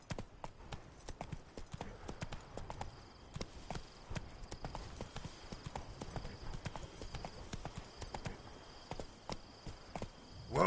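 Horse hooves clip-clop steadily at a walking pace across the full stretch, a fairly close and continuous rhythm from the horse Roach in The Witcher 3 video game.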